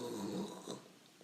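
Voice imitating a bear's loud snore, a single drawn-out rasping snort heard close and alone, fading out after about a second.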